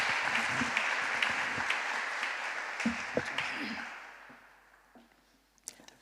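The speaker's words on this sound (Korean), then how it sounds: "여러분 박수로 한번 환영해 주시죠" A crowd at a Sunday church service claps steadily, the applause gradually fading out over several seconds, leaving a few scattered claps and faint room noise.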